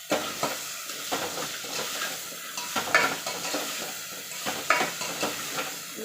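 Radish pieces cook in a pan for radish and lentil sambar, stirred with a spoon: steady sizzling with repeated scraping strokes every half second or so, close and moderately loud, no talking.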